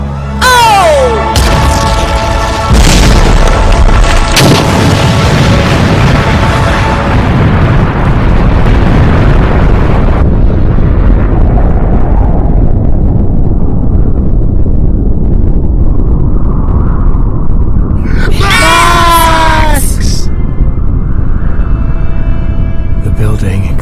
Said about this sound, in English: The building exploded spectacularly within the force field.